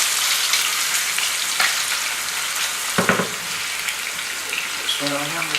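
Sausage and onion frying in a pan for lasagna: a dense, close sizzle with occasional stirring clatter, and a brief voice near the end.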